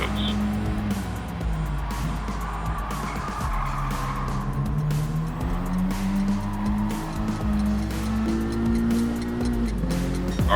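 Race car engine and squealing tires from a Gran Turismo 7 replay, a steady loud roar with rising and falling pitch as gears shift, with tire skids throughout and no talk.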